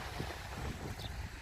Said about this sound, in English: It's just a bit too windy now